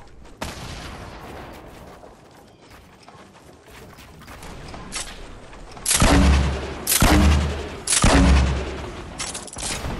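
Fortnite gunfire: scattered, fairly soft shots crackle in the background at first, then three loud close bursts of heavy fire hit in quick succession near the end.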